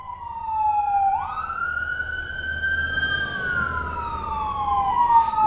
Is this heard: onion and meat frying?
no